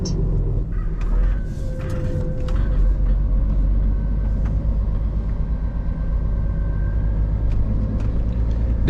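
Steady low rumble of an HGV lorry pulling an empty skeleton trailer on UK roads, a continuous engine drone with road noise that holds loud and close throughout.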